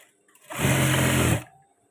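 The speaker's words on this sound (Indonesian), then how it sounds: "bagian-bagian yang rawan sobek itu wajib kita kunci jahitan" Sewing machine stitching a batik shirt sleeve, one loud close burst of fast whirring lasting about a second, rising and cutting off abruptly amid a quiet room.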